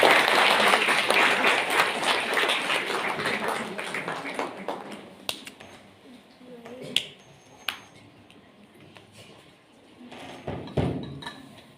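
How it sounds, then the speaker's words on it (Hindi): A crowd at a hospital Christmas celebration with a nurses' cultural programme gives performers taking the stage a loud, dense round of applause. The applause fades after about five seconds into a few scattered sharp claps and taps. "एक बार आप लोग जोरदार ताली बजाते हैं।"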